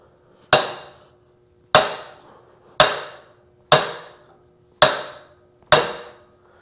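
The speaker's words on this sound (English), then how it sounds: "I'm just giving it some light taps with the dead blow hammer and a big brass drift" Six evenly spaced sharp metallic knocks from a dead blow hammer striking a big brass drift during teardown of a 1928 John Deere D tractor, each close, crisp and quickly decaying, with quiet gaps and no speech.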